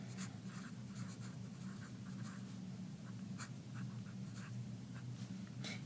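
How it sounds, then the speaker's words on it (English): Hand writing of spelling exemplars, heard as a steady run of soft, close pen or marker strokes scratching on a page, with a quiet hum underneath and no speech. "I'm going to write our exemplars."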